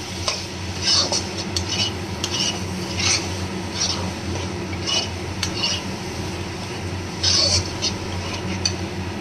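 Coconut paste sautéed with spice mix in a pan: repeated scraping stir strokes come every second or so over a low, continuous sizzle, close and moderately quiet.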